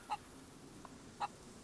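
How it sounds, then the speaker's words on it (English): A rooster in the survival game DayZ lets out two short, faint honking calls about a second apart, with a softer note between them, over quiet background and no talk. "This is a rooster."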